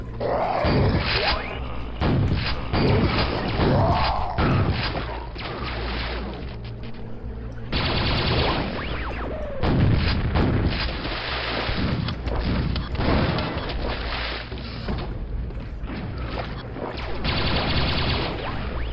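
Heavy gunfire from a Quake mission pack weapon in a sewer level of the video game, a loud run of booming blasts and thuds in bursts with brief pauses between.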